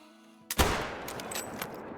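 A single loud close rifle shot from a 300 Blackout fired at a stag in the hunting game Call of the Wild, a sharp crack followed by a long rolling echo that tails off over a second and a half.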